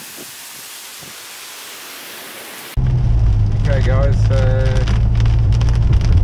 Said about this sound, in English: now it's started raining here